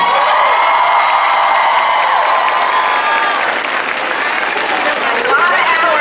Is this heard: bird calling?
no